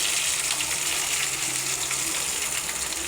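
Onions added to hot oil for tomato chutney sizzle and fry, a loud, steady, close crackling hiss that fills the short stretch without talking.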